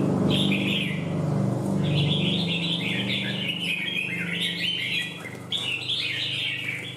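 A bird calls repeatedly in bright, chirping bursts over a low steady hum of background noise, fairly close and loud.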